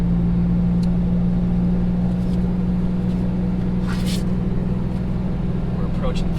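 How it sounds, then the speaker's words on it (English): Jeep engine in gear towing a trailer downhill, a steady mid-pitched drone with revs slowly climbing throughout, loud and close, with a few faint clicks and a brief hiss partway through. "You can hear the engine coming up,"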